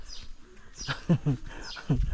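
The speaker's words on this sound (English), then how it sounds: "Wow, people love these birds." Birds call outdoors in Malawi, giving a few short, close chirps and cooing notes in uneven bursts over faint background noise.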